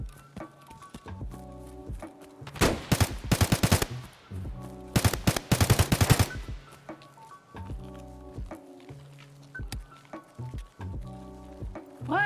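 Gunfire in the video game Escape from Tarkov comes as two dense, loud bursts of rapid automatic shots, with quieter thuds and game sounds between them and no talk over the shooting.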